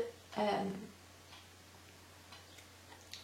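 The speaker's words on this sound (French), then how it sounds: "Donc c'est le bruit des aiguilles" A short burst of light clicking from knitting needles near the start, then quiet room tone with a few faint ticks.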